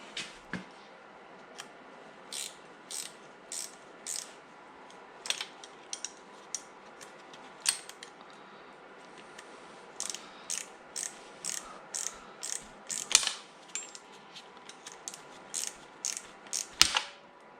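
Socket ratchet clicking in quick bursts while loosening the crank bolt on a Nissan VG30DE V6 engine during a teardown, close and sharp metallic ratchet strokes with brief pauses in between and no talk.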